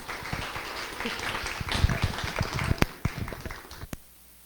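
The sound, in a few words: audience applause for speakers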